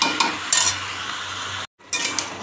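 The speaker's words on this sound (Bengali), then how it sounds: "এই মাংসটা এখন বসিয়েছি সবে, এখন কষাচ্ছি" Chicken pieces stir-fried in a pan, with a soft sizzle under repeated scraping and clinking of a spatula against the metal, a brief drop to silence partway through, then the stirring resumes.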